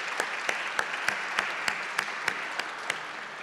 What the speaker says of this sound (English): So how about a round of applause for our partner at WBUR?